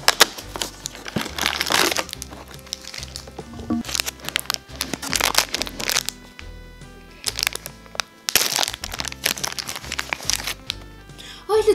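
Cardboard and paper crinkle, tear and crush as an advent calendar box is opened at close range, with rustling bursts coming and going.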